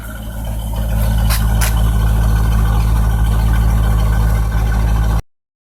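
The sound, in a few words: Corvette engine idling before exhaust mod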